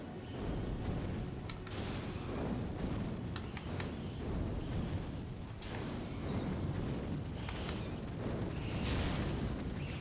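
Fireball spells cast in Elden Ring, heard as a dense, continuous roaring rumble with repeated bursts and whooshing flares throughout, loud and steady with no voices.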